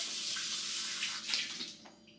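Tap water runs into a bowl being rinsed out, a steady splashing stream near the mic that tapers off toward the end.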